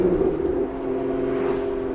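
Supercharged Lotus Emira with a full titanium exhaust holding a steady, loud drone, a sustained engine note with a whining edge running evenly for two seconds, no voices.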